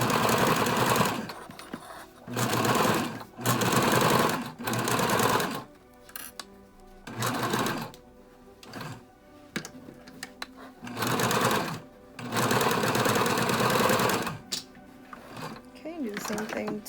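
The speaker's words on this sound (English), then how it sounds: "and then just sew down the top edge again" Sewing machine stitching along the top edge of a fabric face mask with a filter pocket, running in steady loud bursts of a few seconds separated by pauses, with a voice talking during the gaps.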